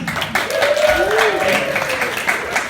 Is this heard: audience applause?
yes